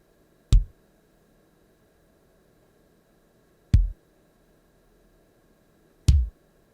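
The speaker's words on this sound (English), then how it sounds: "First I'm gonna show you the kick drums." Three separate kick drum hits from a Korg Triton synthesizer plugin, spaced about three seconds apart, each a punchy, deep thump with a sharp click attack, isolated in silence.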